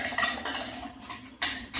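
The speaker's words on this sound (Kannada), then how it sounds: "ಪಾತ್ರೆಯಲ್ಲಿ ಹಾಕ್ಕೊಳ್ತಾ ಇದ್ದಾರೆ." Ground masala from a mixer is tipped and scraped into a cooking pot, with a few sharp metallic clatters of a utensil against the pot. No one speaks.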